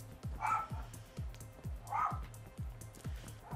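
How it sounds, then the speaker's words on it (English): Dogs bark in repeated short volleys, some barks sharp and near and others softer, spread steadily across the stretch with brief pauses between them. "apologies for the barking dogs"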